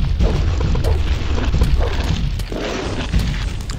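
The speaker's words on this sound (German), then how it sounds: "ich schnapp mir einen schwachen Zauber und mach mal einen sauer auf mich" A weak magic spell cast at an enemy in Gothic 2 lands as a run of loud, muffled booms and bursts, repeating in quick succession over a dense low rumble with no talking.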